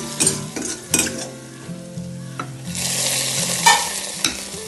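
Fried shallots and curry leaves hit a chicken curry, setting off a loud crackling sizzle with stirring clinks and bursts of spitting oil, close up and free of speech.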